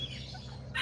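Small chickens and roosters of the Aztec kikiriki type chirp in a short burst, with a brighter high chirp near the end over a low steady background hum.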